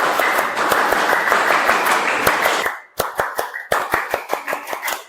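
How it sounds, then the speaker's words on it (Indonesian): A class of standing students performs the scout clap, a dense burst of group applause that breaks into crisp, rhythmic claps in unison, close and loud with no talking. "Tepuk pramuka 2 kali."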